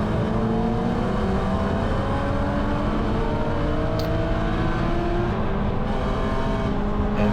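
A Condor BMW Spec E9X race car drives in a Gridlife GLTC race at Gingerman, its engine droning loud and steady with rising revs heard from inside the car, with no talk.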